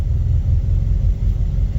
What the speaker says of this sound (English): Sounds like exhaust.